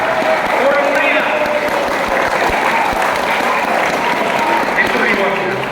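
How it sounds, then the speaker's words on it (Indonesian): Lively applause and cheering from students at a junior high school Christmas celebration, a dense, loud and continuous clatter of clapping with voices blended into the crowd noise. "Tepuk tangan. Orang meriah."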